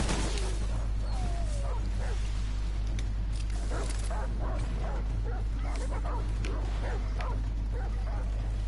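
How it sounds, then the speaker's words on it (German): Dogs bark and yip in the Remnant: From the Ashes video game, a dense run of repeated barks with some whimpering, fairly close, over a steady low game hum. "Man hört überall Hunde, weiß aber nicht, woher das kommt."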